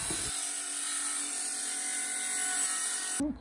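A power tool whines at a steady, high pitch for about three seconds in a woodworking shop where a children's car bed is being made, then cuts off abruptly.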